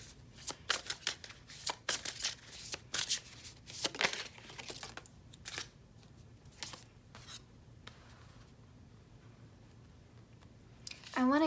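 Oracle cards shuffled by hand close to the microphone, a quick series of sharp riffling snaps and slides that thin out and fade into soft handling near the end.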